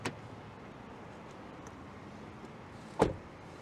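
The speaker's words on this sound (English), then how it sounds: "Let's check out the sound of the closing door." Door of a 2022 Kia Telluride SX Prestige SUV closing, one solid thud near the end after a faint click at the start, with quiet surroundings in between.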